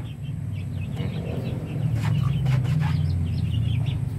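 Native chickens and young chicks clucking and peeping near and far in an open yard, a steady low murmur of hens with scattered higher chirps and a few sharper calls rising midway.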